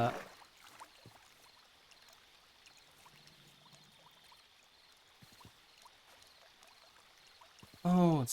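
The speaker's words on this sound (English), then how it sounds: "it's the water running sound from blocks that I've dug out" Running water trickling from dug-out blocks in a Minecraft survival modpack, a faint steady stream behind scattered soft game noises and a brief voice.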